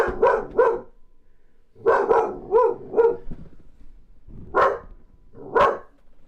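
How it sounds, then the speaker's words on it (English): A dog in the house barks in loud, close bursts: a quick triple, then another cluster of three or four, then two more sharp barks, with short pauses between the groups and no talking over them. "Dog, who are you barking at?"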